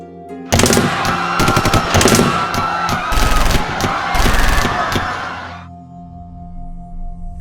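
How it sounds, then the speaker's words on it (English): Sustained bursts of rapid machine-gun fire from soldiers ambushing a minibus, loud and close, with rattling volleys and reports for about five seconds before fading to a quiet background. "The soldiers lying nearby, ready to ambush, opened fire on the bus"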